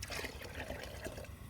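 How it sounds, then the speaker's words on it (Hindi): Water is poured by the mugful into a cooking pot for vegetable pulao, a soft continuous splashing trickle heard faintly without talk. "3 मग ये वाले चावल हैं तो 6 मग पानी डालेंगे।"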